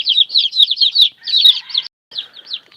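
Newly hatched chicks being raised on a farm chirp and cluck in quick, close, overlapping bursts, with a brief pause before a few more calls. No one speaks.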